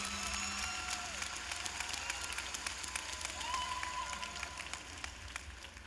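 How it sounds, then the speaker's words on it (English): At a high school graduation ceremony, the audience gives a steady round of applause for the parents and students, moderately loud and continuous, with faint tonal sounds from the hall. "I think we should give them, all the parents and all the students, a wonderful round of applause"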